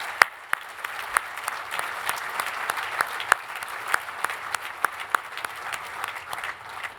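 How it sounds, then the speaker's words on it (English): Audience at a Fallen Patriots gala applauding Medal of Honor recipients, a steady wash of clapping with a few sharp nearby claps standing out throughout. "We give them all a warm round of applause, sir."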